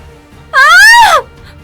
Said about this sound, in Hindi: दोनों चिल्लाती हुई कॉरिडोर में भागने लगी